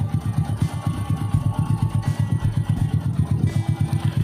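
A bored-up Honda Supra X 100 motorcycle engine fitted with a Vario 125 piston runs close and loud, with a rapid, steady, throbbing pulse and a slight mechanical clatter.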